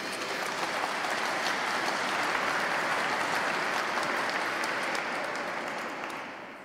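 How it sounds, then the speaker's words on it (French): Congregation in a church in Reims applauding together during Mass, a dense, sustained wash of clapping that holds steady throughout and tapers slightly at the end. "On peut l'applaudir."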